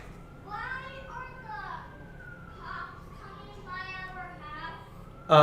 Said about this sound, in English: usually they start their sirens there when they need to get somewhere in a hurry